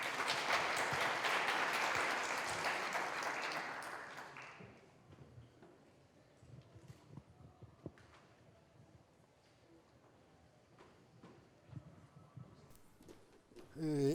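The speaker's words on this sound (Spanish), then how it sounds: "demos la bienvenida con un fuerte aplauso" Audience at an academic invited talk gives a short round of applause welcoming a speaker, steady clapping for about four seconds before dying away into quiet room noise and scattered sounds.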